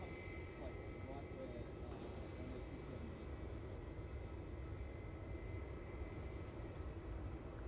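Steady, distant roar of an airliner rolling out on the runway after touchdown at Melbourne Airport in Australia, continuous and fairly faint throughout.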